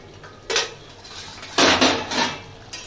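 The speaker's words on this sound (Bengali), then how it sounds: "5 মিনিট পরে আমি ঢাকনাটা খুলে দেবো।" Lid lifted off a cooking pot of pointed gourd and potato curry, two loud metallic clatters of lid against pot with ringing scrapes between, close and without talk.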